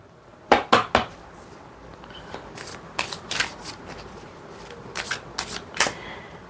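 Tarot cards being shuffled during a destiny reading, heard as bursts of crisp riffling flutters, two quick close shuffles then several more clustered riffles, alone with no talk.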